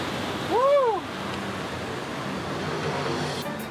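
Rough Mediterranean Sea surf on the Amalfi Coast makes a steady, broad rushing wash throughout, with a short rising-and-falling whistle-like chirp sounding briefly near the start.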